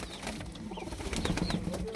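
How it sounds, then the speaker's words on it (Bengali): Pigeons and their young in a loft, with a steady flutter of wings beating in short bursts close by over a constant background rustle, and the odd faint coo. "দেখলেন আমার এইখানে বাচ্চাগুলো এবং কবুতরগুলো"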